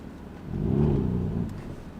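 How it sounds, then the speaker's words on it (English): A modified BMW M3 F81 Touring wagon with its exhaust set to loud mode swells into a short, deep rev, a nearby throaty rumble rising and fading over about two seconds. "Let's put it into loud exhaust mode."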